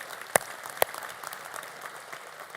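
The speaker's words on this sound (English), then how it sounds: "We can applaud that." A congregation applauds during a Sunday worship service, a soft, steady patter of many hands with two sharper nearby claps early on, faint and continuous throughout.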